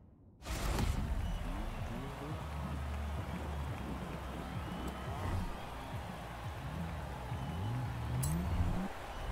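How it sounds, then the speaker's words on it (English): Steady rain hisses over a continuous backdrop in the racing video game Forza Horizon 4, with faint engine-like tones from a Corvette underneath; no voices. "And of course it has to rain."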